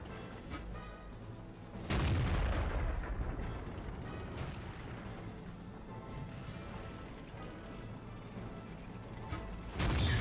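Type 59 tank cannon fire in World of Tanks: a heavy shot booms at about two seconds and rumbles away, then a second blast lands near the end, with battle noise between.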